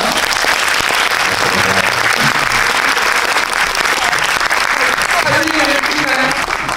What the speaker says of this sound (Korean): 이렇게 서로 박수 보내드리면서 이 순서 마무리하도록 하겠습니다